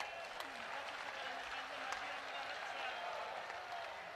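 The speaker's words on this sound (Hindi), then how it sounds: "यदि आपको अनुकूल हो तो ठीक से ताली बजाइए।" A crowd at a Hindu unity march gathering claps steadily and continuously, a dense wash of applause heard from some distance, fairly faint throughout.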